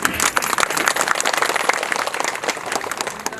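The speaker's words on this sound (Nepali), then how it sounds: "तपाईको तालीले उहाँलाई निमन्त्रणा गर्नुस्" Audience applause at a live stand-up comedy show in Nepal, a dense steady patter of many hands clapping together with no voices, holding at an even loudness throughout.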